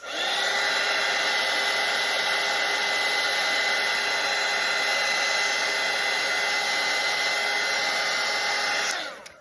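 A hair dryer blows steadily and loudly at close range for several seconds while drying a watercolour painting, a constant whooshing whine that cuts off abruptly at the end.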